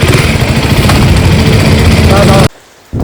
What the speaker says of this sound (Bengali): সাউন্ডটা মানে পুরো সুপার বাইকের মতো সেলফ মারলে যেরকম হয় না ওরকম লাগে